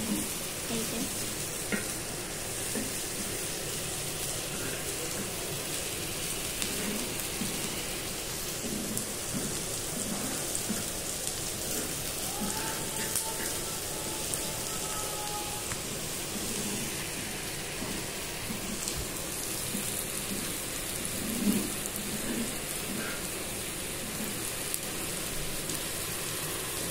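Onions sizzling and frying in a pan for koi fish curry, a continuous crackling hiss that holds steady throughout with occasional faint stirring.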